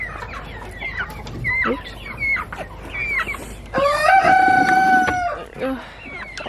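Chickens in a backyard coop clucking in short repeated bursts close by, one bird letting out a long loud crow, with a brief spoken word among them.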